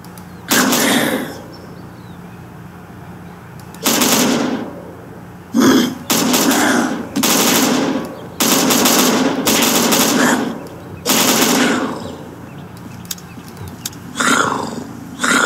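Gunfire from overpowered guns in the video game Unturned, sounding as loud bursts of shots in separate volleys, some long and sustained, with short gaps of quieter background between them.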